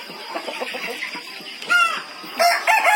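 Chickens on a poultry farm cluck softly and repeatedly, then loud crowing calls break out twice near the end.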